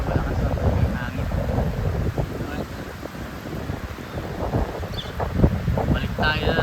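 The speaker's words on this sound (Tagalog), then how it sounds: "Ganda pa ng tubig pero malakas ang hangin." Strong wind at the shore during an early-morning fishing trip in the rain, roaring and buffeting the microphone throughout, with someone talking over it.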